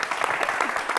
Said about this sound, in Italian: Io volevo fare un applauso per lo stile di quest'uomo meraviglioso